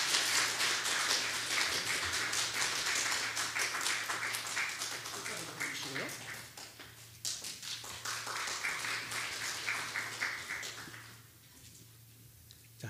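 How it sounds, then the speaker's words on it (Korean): A church congregation at a Sunday service claps for a high school Sunday school graduate receiving a certificate, a dense, steady round of applause that fades out near the end. "우리 박수로 축하하시면 좋겠습니다."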